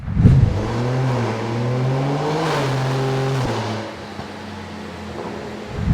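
A tuned BMW B58 engine with a big turbo revs under boost, rising as a loud, close harmonic drone. The pitch falls away about halfway through, leaving a quieter idle-like rumble before it picks up again.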